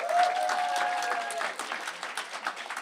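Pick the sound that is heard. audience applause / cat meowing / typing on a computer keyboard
audience applause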